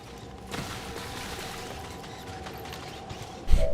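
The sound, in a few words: whirring armor noises of a soldier in video game XCOM 2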